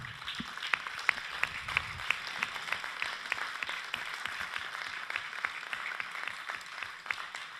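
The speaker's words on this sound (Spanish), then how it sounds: "yo pido un fuerte aplauso de apoyo a los compañeros de México" Applause at a political forum, given in support of fellow activists from Mexico. The clapping is fairly faint and somewhat distant, with a steady patter of individual claps and no talk.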